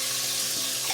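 Green chillies dropped into hot oil, a bright continuous sizzle with a low hum beneath, short and steady, ending in a small burst of crackle.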